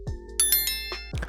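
A synthetic notification bell sound effect, a couple of bright chiming dings with ringing overtones, close and clear, with no talking.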